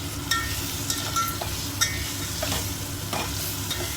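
Poha being stirred in a pan on the stove gives a steady run of scraping and stirring strokes over a soft sizzle, close and fairly loud, with no voices.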